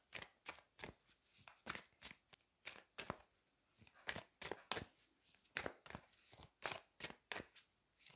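Oracle cards from the Magic of You deck are shuffled in hand, a quick run of crisp riffling flicks and soft card slaps repeating in irregular bursts, close and fairly quiet, with no talk.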